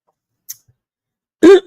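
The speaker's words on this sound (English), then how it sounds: "it's making me clear my throat a bit" A single short, throaty clearing of the throat rings out after near silence, preceded by a faint tiny click.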